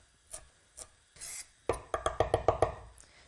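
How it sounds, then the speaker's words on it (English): A knife chops scrunched parsley leaves finely on a board for a baby's fish stew, starting with a few separate strokes and then a quick burst of seven or eight crisp rhythmic cuts. "Scrunch it up as small as you can and chop it as finely as you can."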